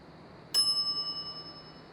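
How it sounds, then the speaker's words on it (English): Service bell on a shop counter in the Monkey Island video game, a single bright ding that rings out and decays over about a second. "some idiot's already ringing that stupid bell"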